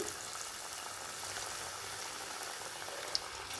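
Cashews and small pieces dropped one by one into hot oil, frying with a steady, even sizzle that fills the moment, with one faint click near the end.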